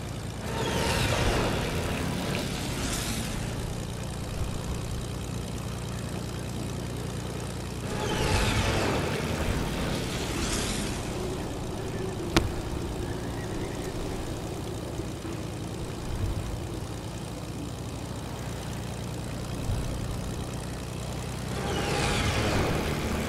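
A propeller airplane engine in the Fortnite video game drones steadily at a continuous, moderately loud level, with a few louder passes or swells rising and fading throughout.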